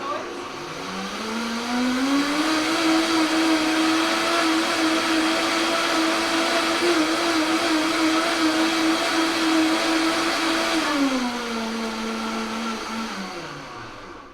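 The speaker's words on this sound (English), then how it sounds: "Pretty sure we're all blended now." A blender whirs through a dairy-free turmeric lassi, its motor spinning up to a loud, steady high whine that holds for several seconds before winding down, all close by.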